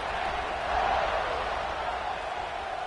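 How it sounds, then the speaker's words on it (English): A stadium crowd buzzes in College Football 26 on PS5 after a score, a steady, moderately loud wash of massed voices without distinct words. "this crowd is buzzing after that last score"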